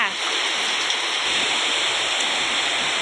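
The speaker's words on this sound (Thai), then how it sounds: "ฝนตก พี่น้องเฮ้ย ตกอีกแล้ว" Rain falls steadily, making a dense, continuous hiss of drops close by with no pauses.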